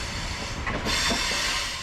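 A sleeper train arriving at Tashkent South Station in Uzbekistan, heard as a loud, steady rolling rumble with hiss and faint squealing wheels swelling midway, heard from on board with no talk.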